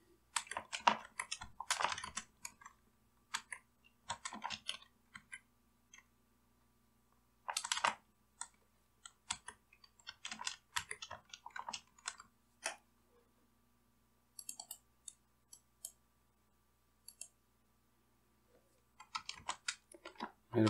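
Bursts of quick clicking keystrokes on a computer keyboard while data is typed into an Excel spreadsheet, coming in short irregular flurries separated by pauses, close and fairly quiet, with no talking.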